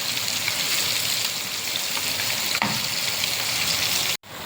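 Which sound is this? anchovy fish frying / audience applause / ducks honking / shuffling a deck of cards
anchovy fish frying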